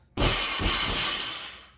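A barbell is dropped from deadlift height onto floor pads, giving one sudden, loud crashing impact with a clattering, ringing rattle that fades over about a second and a half.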